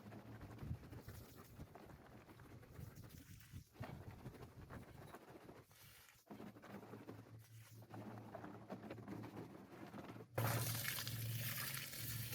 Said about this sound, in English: First, I'm going to shake out some of the rust. I'll add some pocket rocks and then some water.